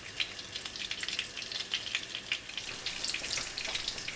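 Veal cutlets for Wiener schnitzel fry steadily in hot fat, a dense continuous crackle and sizzle with popping spatters throughout, fairly close and without any voices.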